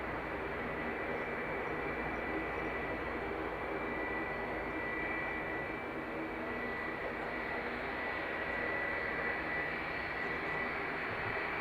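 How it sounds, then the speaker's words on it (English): A Malta Air jet airliner departs Dublin Airport, its engines a loud, continuous roar with a broad rushing hiss held steady throughout, and no voices. "I should wait for the Malta Air to depart"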